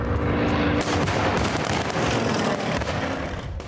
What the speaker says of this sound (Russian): Выстрелы и взрывы